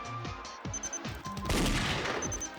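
Rapid gunshots in the video game Danganronpa Another, a quick series of sharp cracks followed by a denser burst of fire, close and loud with no talking.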